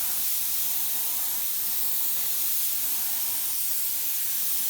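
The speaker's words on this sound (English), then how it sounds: "spray this with a nice coat" A continuous, fairly quiet aerosol hiss as spray paint is applied to a Fox-body race car panel in one steady burst, with no talking.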